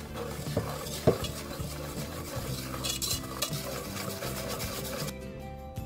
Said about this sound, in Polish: Jajka z cukrem ubijamy na puszystą masę.